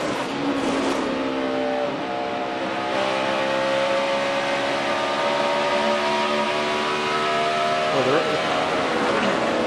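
NASCAR Sprint Cup stock cars racing at Pocono at high RPM, a loud, continuous engine roar with sustained whining tones that drift slowly in pitch, and a commentator talking beneath it.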